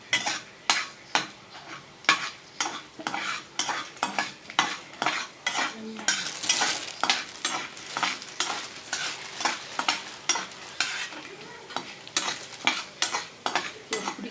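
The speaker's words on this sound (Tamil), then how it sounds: "நல்லா அது வறுத்து எடுத்துடலாம்." Chana dal and five dried red chillies roast in a pan, stirred in a steady rhythm of scraping strokes over a low sizzle, close and clear with no talking.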